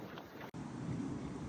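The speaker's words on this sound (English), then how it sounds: "it's a bit windy" Wind gusting on a windy day outdoors, a broad rushing roar buffeting the microphone, with a brief dropout before it swells again; no voices.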